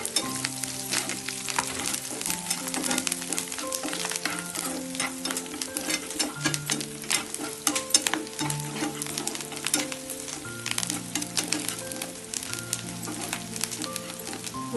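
Curry leaves dropped into hot oil for Nellore-style pongal crackle and sizzle continuously, with sharp popping spits over a steady frying hiss and occasional stirring scrapes, close and loud.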